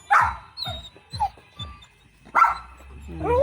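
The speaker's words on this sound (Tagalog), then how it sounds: "Ayan ang aso namin." A dog lets out several short yips and whimpers close by in a residential yard near a garage, in bursts with brief pauses between them.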